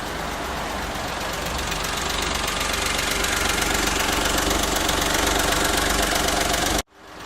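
A 2009 Smart Fortwo Passion coupe's small rear-mounted engine idles with a steady, close, loud rumble and a fast rhythmic ticking throughout, ending in a sudden cut.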